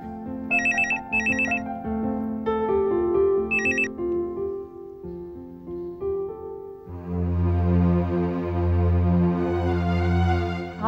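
A telephone ringtone chimes in a repeating melodic pattern, loud and close, with no talking.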